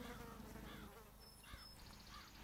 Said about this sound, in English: Yeah, except for all the gnats and mosquitoes everywhere.